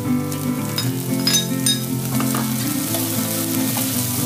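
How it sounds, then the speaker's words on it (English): Onion and cabbage sauté in hot oil in a pan, a steady bright sizzle with a few light clinks of a utensil, heard over continuous tonal background music. "So saute for 1 to 2 minutes"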